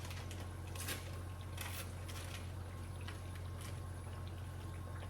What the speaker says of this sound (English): our water has came back to a boil. It's actually foaming a little bit